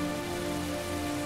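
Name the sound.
rain in the video game Heavy Rain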